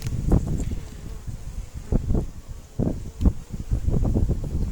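Honey bees buzzing around an open beehive during varroa mite treatment, a steady close insect drone with rustling and bumps from handling the frames, heard outdoors with some wind.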